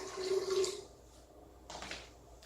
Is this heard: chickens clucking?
no